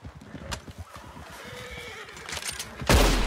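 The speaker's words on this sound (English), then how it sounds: "Well, here's some other horses." A horse in Red Dead Redemption 2 whinnies over a soft clatter of hooves, and a loud burst of noise at the very end drowns it out.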